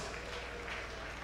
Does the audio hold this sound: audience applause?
yes